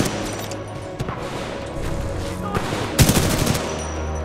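Titan core weapon unleashed in Titanfall 2 gameplay, a rapid roaring barrage of heavy blasts with sharp impacts around one second and a louder burst near three seconds, dense and close.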